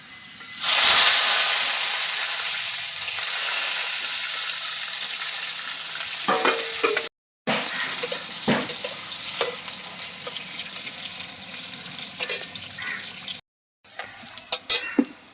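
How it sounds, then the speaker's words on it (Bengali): Eggplant pieces fry in hot oil with cumin seeds, a loud continuous sizzle and hiss that surges at first, then holds steady with scattered clinks and scrapes of stirring and two brief silent cuts. "এবার আমি বেগুনগুলো আগে ভেজে নেব"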